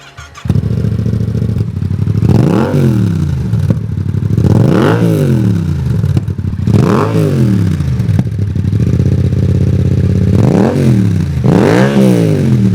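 A Yamaha XSR700 motorcycle fires up close by and settles into a steady idle, then is revved repeatedly in four or five sharp rising-and-falling blips over the continuous engine note.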